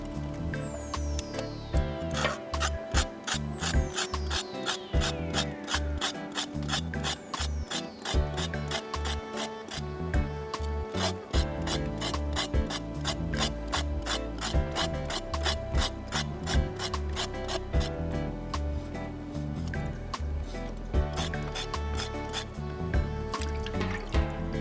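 Scales are scraped off a red snapper outdoors in the rain, a rapid string of close rasping strokes continuing throughout, with dripping water and liquid splashes mixed in.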